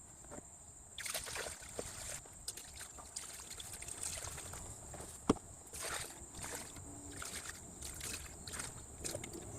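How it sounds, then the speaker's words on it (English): Coolant poured into the water pump and engine block of a Ford F150 5.4L during a radiator and water pump job, a faint trickling and gurgling with scattered small clicks and knocks, close by and quiet. "I'm going to prime the water pump and engine block with coolant before I reattach this"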